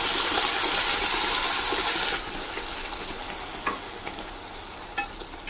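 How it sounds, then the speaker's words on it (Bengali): Spice paste with dried shrimp hits hot oil and fries loudly, a dense hiss that eases after a couple of seconds into a softer sizzle, broken by a few sharp spoon scrapes and stirring clanks. "মশলাটা পেস্ট করে এনেছি, এবার এটা তেলের মধ্যে দিয়ে দেব।"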